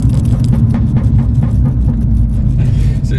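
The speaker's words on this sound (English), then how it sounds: "So as you can hear, the pop and bang map is working extremely well." Tuned Abarth 595 with a stage 1 plus map and pop-and-bang tune, engine rumbling loud and close with a rapid series of sharp exhaust crackles and pops spread through the whole stretch.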